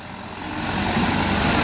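A Mercedes truck towing a trailer strains up a steep uphill road, its heavy engine droning low and building louder over the short stretch, close and continuous with no talk.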